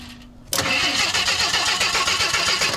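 A 1975 AMC Gremlin with weak spark, long left sitting in a garage, cranks over after a click, giving a loud, steady, rhythmic churning of the starter up close that continues without catching.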